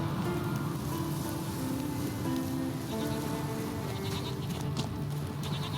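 Goats bleating on a mountainside in the video game The Witcher 3, wavering calls repeating over steady rain-like background noise, with no talking.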